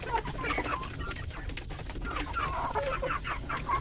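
Free-range kampung chickens on a farm cluck steadily, with many overlapping bird calls and busy flock chatter filling a few seconds at moderate, close range.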